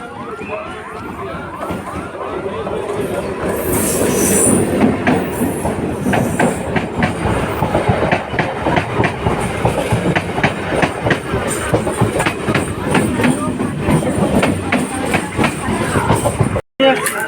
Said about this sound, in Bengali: ট্রেন আসার টাইম হয়ে গেছে।